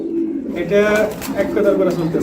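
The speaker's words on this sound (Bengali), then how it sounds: "এই যে দেখেন ব্লোবার শৌখিন কবুতর বেবি একদম বিগ সাইজ" Soft cooing of fancy blower pigeons rolls in repeated warbling phrases, close by, mixed with some murmuring voices.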